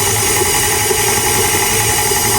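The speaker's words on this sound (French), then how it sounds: "Et on laisse travailler notre robot." A stand mixer kneads strawberry tart dough on first speed with a loud, steady motor drone and hum that continues unchanged for the whole stretch.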